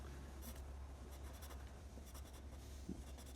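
Handwriting on paper while drawing a fake keyboard, soft continuous scratching and scraping strokes at low volume over a faint steady background hum.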